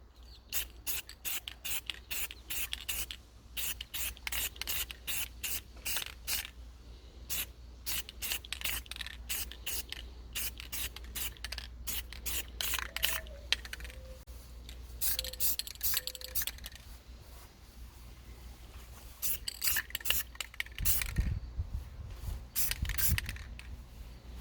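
Aerosol can spraying semi-gloss black paint onto a power steering part from a 1977 C3 Corvette, close and fairly quiet, in repeated short hissing bursts with brief pauses between them and no voices.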